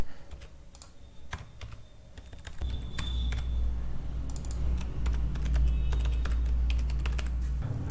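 Quick bursts of keystrokes clatter on a computer keyboard while code is typed, close and crisp, first over quiet and then over a rising low background hum.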